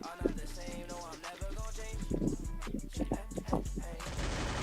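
Gunshots from the mobile battle royale game Free Fire, with a series of sharp shots at a moderate pace over game music and sound effects, fairly faint.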